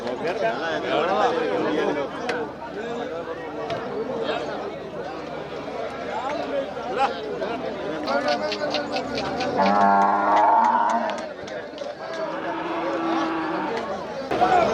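Kangayam cattle low and moo at the busy Pollachi cattle market, several drawn-out bellows rising over a constant crowd of men chattering and bargaining nearby.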